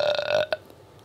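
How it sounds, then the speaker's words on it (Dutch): One short, loud, deep burp done on command, lasting under half a second and followed by a brief click and quiet. "Ik zou het leuk vinden als ik nu een boer op commando kan laten"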